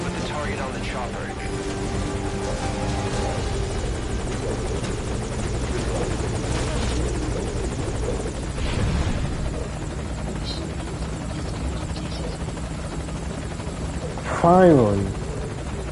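A helicopter idles at a landing zone in a Metal Gear game, a steady rotor drone under game music and brief voices, with a short sweeping synth tone near the end.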